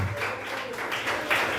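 Applause at a church service rises after a sermon about tithing, a broadband patter of clapping hands held steady over a brief moment at moderate distance, with no voices over it.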